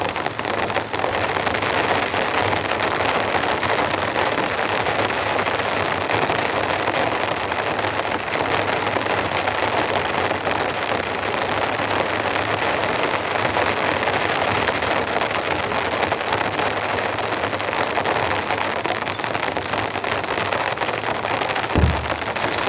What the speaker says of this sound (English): Quite heavy rain coming down.